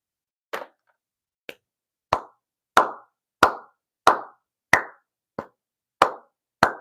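Sharp hand claps, spaced out slowly and one at a time, about ten in all with short decays. Each clap stands alone against silence, and nobody speaks.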